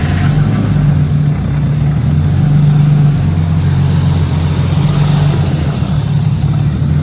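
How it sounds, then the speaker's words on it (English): A Nissan R34 Skyline engine with a freshly installed GT35R turbo kit idles after its first start, a loud, steady, close rumble with an even low drone and no revving. "first start with everything hooked up"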